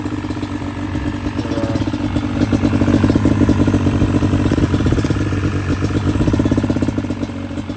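A Yamaha Banshee ATV's two-stroke engine runs loud and close, a steady ragged rattling idle with rapid popping pulses that swell slightly midway and hold through the whole stretch.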